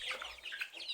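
Sasso chickens clucking at a poultry farm, sounding as a faint, quick, chattering series of soft calls over one second.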